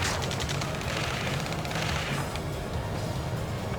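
Sustained gunfire from an Ace Combat 7 ground battle near a space elevator and gantry crane, a dense continuous fusillade with low rumbling booms and crackling shots filling the scene, no voices.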